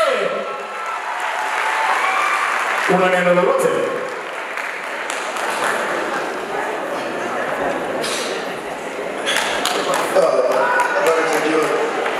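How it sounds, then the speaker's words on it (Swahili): Applause and cheering from a crowd at a music award ceremony in Tanzania fill the room, a steady broadband roar of clapping that swells near the start and again toward the end, with voices mixed through it. "makofi mengi na kelele"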